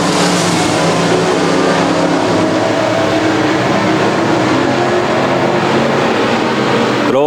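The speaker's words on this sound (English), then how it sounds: "As Brendan McKeague drops the hammer early, catching Graham off guard a little bit." Pro modified race cars charge hard on an oval track, a loud dense engine roar with layered revving that stays steady and close throughout, no voices.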